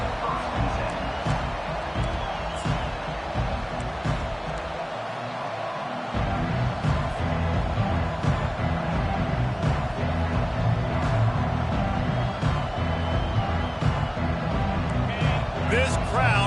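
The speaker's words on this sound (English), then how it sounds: "This crowd bringing an ear-splitting welcome to their visitors." A stadium crowd roars without a break in an NCAA football video game, a thick steady wall of noise with scattered claps and thuds, while a commentator talks over it.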